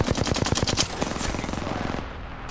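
Rapid automatic gunfire in the Apex Legends video game: a fast stream of sharp, evenly spaced shots, loud and close, that thins out and stops before one last burst at the end.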